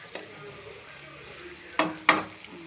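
Onions frying in a home kitchen pan give off a faint steady sizzle, broken by a light tap and then two sharp clattering stirs of a utensil near the end.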